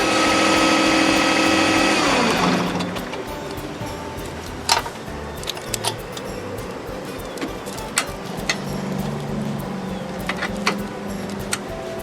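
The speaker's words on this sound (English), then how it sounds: "Now I'm going to shut the tractor off and undo our hoses." A John Deere 1025 compact tractor engine runs with a steady high hum for about two seconds, then shuts off and winds down, leaving quiet clicks and faint ticking sounds afterward.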